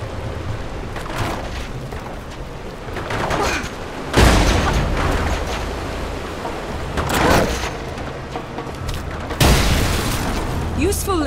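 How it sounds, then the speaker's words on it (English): Bomb blasts in the video game Lara Croft and the Temple of Osiris, with two loud broadband booms about five seconds apart and a third burst near the end, over a dense background of game ambience and voices. "Just try to stay clear of the blast"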